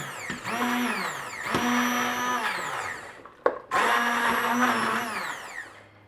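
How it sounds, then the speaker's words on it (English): An immersion blender whirs steadily through Portuguese collard green soup (caldo verde), with a loud, even motor whine in two long bursts broken by a brief stop and restart partway through. "we blend it with the immersion blender."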